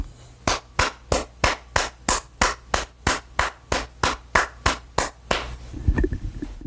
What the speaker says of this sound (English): I'm going to basically clap my hands.